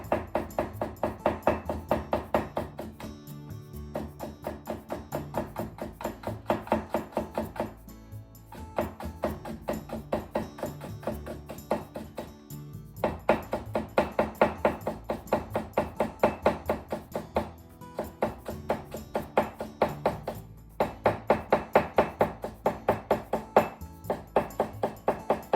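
A knife chops vegetables into needle-thin strips on a cutting board, rapid even taps close by in long runs with brief pauses, without talk.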